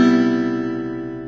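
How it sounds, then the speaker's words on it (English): A single guitar chord from a song rings out alone, sustained and slowly fading with rich steady harmonics. "So the chord's going to sound like this."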